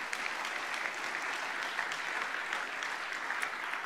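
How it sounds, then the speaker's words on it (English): A church congregation claps together in a steady, even wash of applause that holds at a moderate level throughout, with no voices standing out. "Give God a round of applause if you understand what I'm saying."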